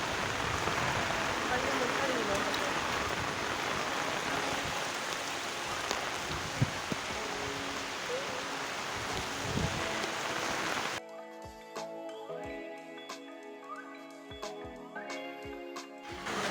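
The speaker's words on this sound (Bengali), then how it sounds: "কিন্তু আজকে এই পরিমাণে জল হয়েছে" Heavy rain from Cyclone Remal falls in Karimganj, a steady dense roar of rainfall on surfaces and water for most of the stretch, then cutting to a quieter, sparser patter with scattered drops near the end.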